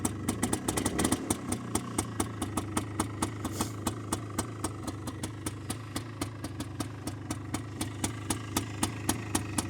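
A Polaris 250 4x4 quad, freshly started cold on an icy, rainy day, idles with a steady, even ticking pulse, close up and uninterrupted, with no talking.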